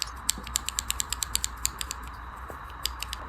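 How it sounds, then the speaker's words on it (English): Crisp mechanical keyboard switches on a Kinesis TKO 60% keyboard click in an uneven run of keystrokes, close and fairly quiet, with no one talking. "how the switches sound on the board, tactile, linear"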